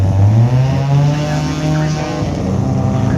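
A loud, close car engine doing burnouts at the Brisbane Jamboree, a deep roaring rev that holds briefly and then sinks into a rough, throbbing drone.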